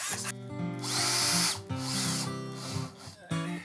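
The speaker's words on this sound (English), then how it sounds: "I'm going to put some screws in here." A power drill drives screws into a curved arch panel for an arched entryway, with several loud whirring bursts of rising and falling pitch separated by brief pauses.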